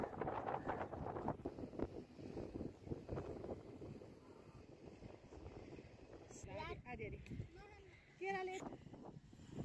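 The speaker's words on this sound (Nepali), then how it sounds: "निकै हावा चलेको छ" Strong wind blows outdoors on a hilly trail, buffeting the microphone in a continuous loud rumble. Voices are heard faintly in the background near the end.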